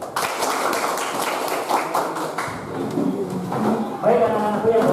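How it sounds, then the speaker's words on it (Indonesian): A class of students claps their hands in a classroom, a burst of close, brisk claps with voices mixed in. "Tepuk tangan."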